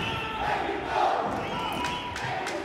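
A partisan crowd roars and cheers steadily through a Karate Combat fight in a cell-block arena, a dense continuous wash of voices that swells at moments.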